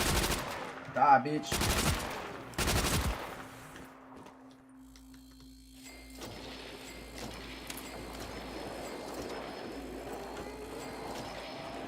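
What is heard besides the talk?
Tommy gun firing, from a video game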